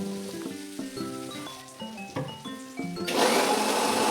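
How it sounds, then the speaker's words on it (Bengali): A kitchen mixer grinder blends mustard, garlic, ginger and green chilies into a paste. Tonal background sounds come first, then the loud, steady whirring roar of the grinder starts abruptly and continues to the end. "মিক্সচারে ভালো করে পেস্ট করে নিতে হবে মশলাটাকে।"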